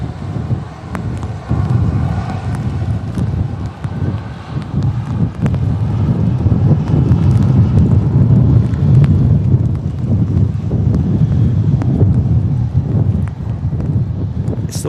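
Strong Storm Claudia wind roars across Manchester Airport, a constant loud buffeting rush against the microphone with low gusty rumble throughout.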